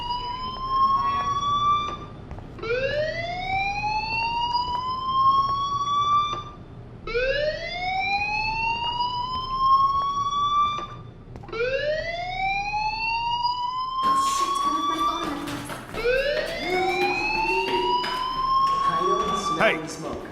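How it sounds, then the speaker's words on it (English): A fire alarm in the video game Life is Strange wails in repeated rising sweeps, each lasting about two to three seconds with brief gaps, loud and continuous, joined near the end by extra layered tones. "Hey, do you hear that fire alarm?"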